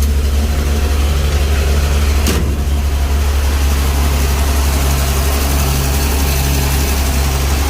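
A Nissan Patrol SD33 diesel engine runs at idle after a cold start following a long sit, a steady loud low rumble with a rapid even knock throughout and one brief sharp click partway through.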